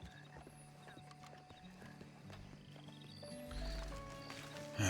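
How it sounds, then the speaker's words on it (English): A horse approaches in a western roleplay video game, its hooves clip-clopping at a steady pace with an occasional whinny, set against soft ambient game music and faint mechanical clicks. "I thought I heard a horse coming."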